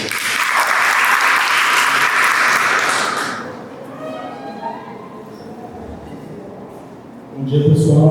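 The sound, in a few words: applause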